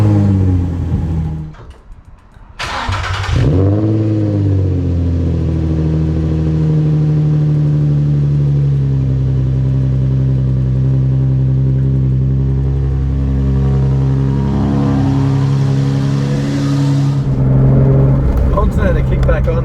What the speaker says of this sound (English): Here we go, I got a cold start.